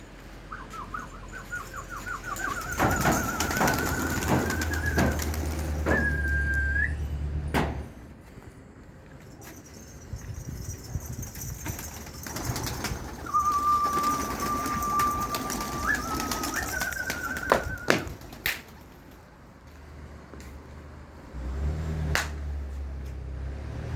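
Pigeons flutter and flap with sharp wing claps and clicks as they take flight, while a high whistling tone comes and goes; moderately close, fairly busy throughout.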